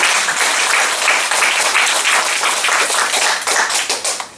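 A church congregation claps together through a Korean worship service, sustained, dense applause from many hands that fills the room and then trails off into a few scattered claps at the end.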